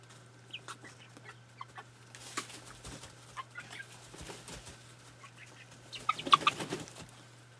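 Young chickens in a brooder give soft scattered clucks and peeps with light pecking and scratching, close by and growing busier and louder near the end, over a steady low hum and without talk.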